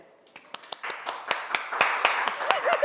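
Studio audience applause for a new Malayalam show: scattered sharp claps that build into a fuller ripple of clapping, with a voice talking over the end.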